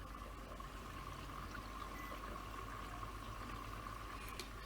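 A quiet, steady rush of water filling a washing machine drum at the start of a 90-degree drum-cleaning cycle, with a faint mechanical hum underneath.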